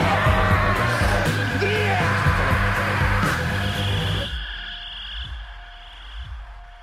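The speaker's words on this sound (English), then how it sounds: "It's just a bunch of yelling for the rest of it." Yelling in a played recording: loud, continuous, harsh shouting that cuts off abruptly partway through, leaving quieter scattered thumps and a faint tone.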